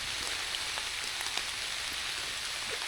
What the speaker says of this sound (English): you can see that it's raining quite hard now